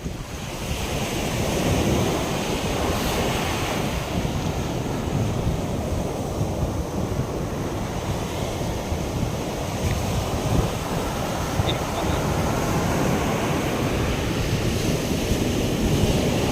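Ocean surf on a beach where baby turtles are released, breaking waves and wind rushing steadily and loudly throughout with constant wind noise on the microphone and no voices.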